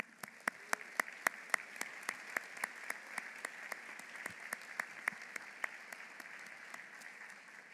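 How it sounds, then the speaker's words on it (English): Graduates at a university doctoral ceremony applaud themselves, a steady field of clapping with sharp individual claps standing out over a dense, moderately distant patter that carries on evenly throughout. "Give yourself a round of applause for a job well done."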